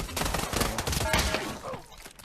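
Gunfire in the Pavlov VR shooter game, a dense barrage of loud cracking shots in quick succession that thins out toward the end.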